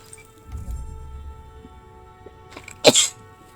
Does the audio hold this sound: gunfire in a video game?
no